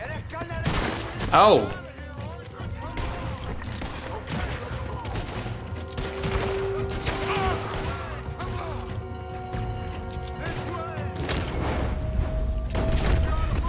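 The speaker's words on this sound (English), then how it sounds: "Man, I hate the guns where you gotta reload after every goddamn shot." Gunfire from Red Dead Redemption 2 cracks out in scattered single shots with reloading clicks between them, set against a steady low game rumble while someone talks and reacts over the action.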